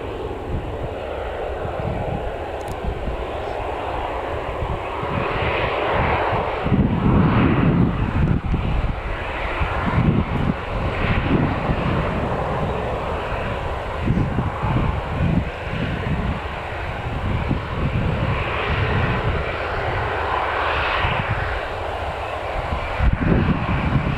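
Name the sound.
KLM airliner taxiing to its gate after landing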